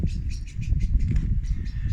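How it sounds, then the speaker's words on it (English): A bird chirps in short repeated calls over a steady low rumble of background noise, fairly close and continuous, with no talking. "And there's a bird there chirping"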